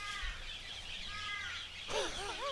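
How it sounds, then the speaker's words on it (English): Wild birds calling outdoors in Guatemala, a mix of chirps and harsher crow-like caws, with a burst of looping whistled calls near the end, moderately close over light background noise. "The birds out here are fucking wild."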